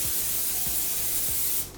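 Cooking spray hissing onto a 9x13 baking pan in three short rhythmic bursts, close and fairly loud, ending abruptly.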